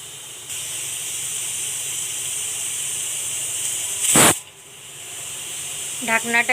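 A pressure cooker making polao gives off a continuous steady steam hiss, then one short, loud blast of escaping steam before the hiss eases.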